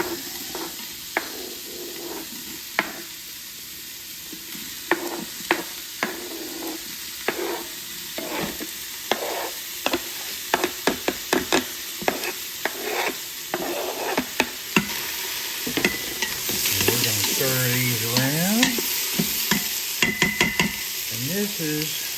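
Onion browning in an Instant Pot for a pot roast, a steady sizzle under repeated sharp stirring clicks and scrapes, rising to a louder hissing spatter near the end, with no voices.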